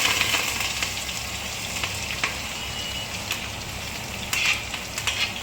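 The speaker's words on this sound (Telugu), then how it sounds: "ఇప్పుడు ఉల్లిపాయ పచ్చిమిరపకాయ కరివేపాకు మూడు వేసేస్తున్నాం" Onion, green chilli and curry leaves fry in a pan for an egg pulusu, giving a steady, close, loud sizzle with a few sharper crackling bursts and no talking.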